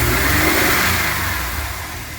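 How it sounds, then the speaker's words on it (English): A 23-year-old 2000 GMC Safari van engine, running cold, revs steadily and loudly up close, a continuous throaty hum that eases off slightly toward the end, with no talking. "That's a good sounding motor for a 23-year-old van."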